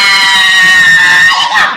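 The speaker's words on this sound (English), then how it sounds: "some woman down the street, you can hear shouting at her" Someone shouts and screams angrily on a street down the road, a loud sustained high-pitched yell that rises and breaks near the end, with faint crowd noise beneath.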